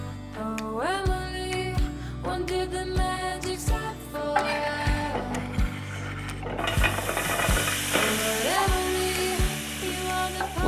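Onions cooking in a ceramic non-stick pan, a close sizzle with stirring that grows louder and denser partway through, mixed with steady tonal background music.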